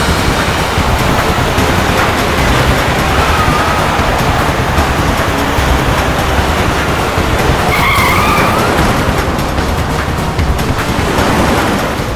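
A car tears recklessly along a road with its tyres skidding in a chase scene set in Rishikesh. A loud, continuous screech mixes with engine roar throughout, and no one speaks.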